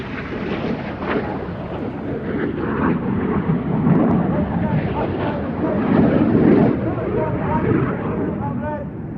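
Display aircraft crossing at the RAF Cosford air show produce a rumbling, surging engine roar that swells and ebbs over several seconds, with a commentator talking over it throughout.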